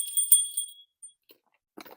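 A small hand bell rung at a home altar gives a bright ringing strike that decays over about three quarters of a second, followed by a few faint soft taps and brief handling noise.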